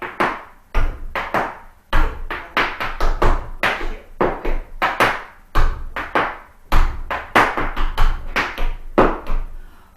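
Tap shoes strike a floor in quick, bright clusters of steps, brush heels and heel drops, repeating in a steady practice pattern, close and crisp with no talk over them.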